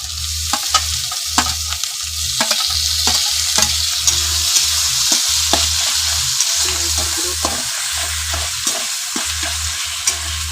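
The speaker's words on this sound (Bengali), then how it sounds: "ভাজা ভাজা হয়ে গেলে তারপর দিয়ে দেবে টমেটো," Tomatoes frying with onion and garlic in a pan, sizzling steadily while a spoon scrapes and stirs in a regular rhythm of close, repeated knocks.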